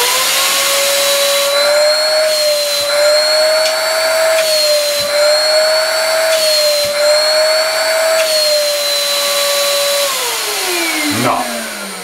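A sandblasting cabinet's extraction fan runs alone, a loud steady whine with a rising tone that holds for about ten seconds, then winds down and falls in pitch as the motor shuts off near the end.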